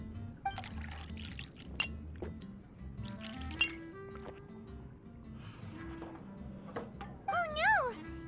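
Glasses clink together in a toast in the video game Genshin Impact, several bright, separate clinks spread over soft background game music, with a short voiced sound near the end.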